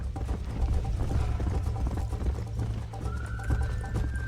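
Horse hooves clip-clop steadily at a trot in the Western video game Red Dead Redemption, with a brief whinny-like tone rising near the end over a constant low rumble of game ambience.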